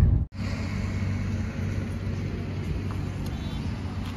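A Suzuki Ertiga car pulls over to the roadside, giving a steady low engine and road rumble that runs throughout after a brief dropout near the start, with no talk over it.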